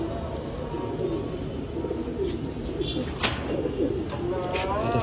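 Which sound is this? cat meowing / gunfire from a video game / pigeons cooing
pigeons cooing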